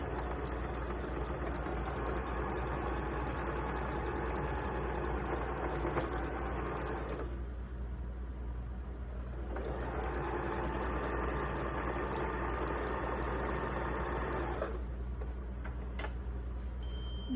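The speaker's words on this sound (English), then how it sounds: "I'm going to sew down the 1/4 inch seam allowance." A sewing machine stitches a 1/4 inch quilt seam in two long, steady runs of whirring motor hum with a pause between, fairly close and alone.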